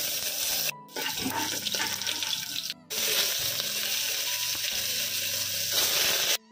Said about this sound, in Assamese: এয়া পিঁয়াজখিনি ঢালি দিম।